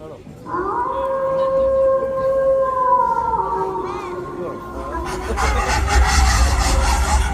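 Street dogs howling in long, rising and sliding wails, fairly close, in a short stage drama, before a rougher burst of noise takes over at the end.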